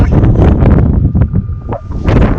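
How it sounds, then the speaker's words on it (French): Wind buffets the microphone in loud, rumbling gusts that swell and dip throughout, with no voices, a headwind while riding an electric fat bike at the Issarbe Nordic area. "Là on a le vent qui arrive de face."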